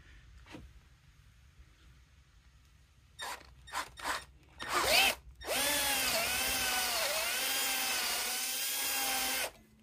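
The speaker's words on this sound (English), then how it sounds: "it calls for a 1/4 inch drill bit. So we're just going to go straight in here" A power drill with a quarter-inch bit whirs up in a few short bursts, then runs steadily for about four seconds boring straight into a stripped bolt hole, loud and close, its pitch wavering slightly.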